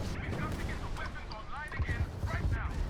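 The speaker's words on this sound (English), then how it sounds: "You'll start seeing missiles flying everywhere." Video game missile launchers from the Matilija Aerospace vertical launch system firing in overlapping bursts, with whooshing launches and rumbling blasts in a dense, continuous barrage.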